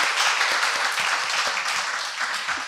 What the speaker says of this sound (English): let's give Sharjay Shamparis a big round of applause